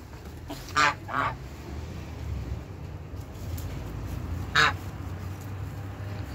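Hens in a garden give a few loud, squawking calls: two close bursts, then one more a few seconds later, standing alone over a steady outdoor background.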